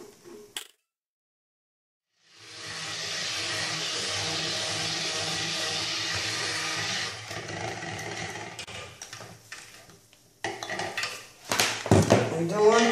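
A steady, dense scraping and swishing of a utensil stirring a soap mixture in a pot for several seconds, then turning irregular with clinks and knocks against the pot.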